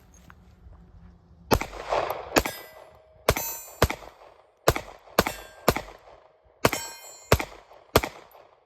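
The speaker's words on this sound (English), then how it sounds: "I didn't shoot that well that time" A Ruger LCP Max pistol firing Winchester ammunition, ten or so crisp, close shots at an uneven pace, each a sharp crack with a short reverberant tail.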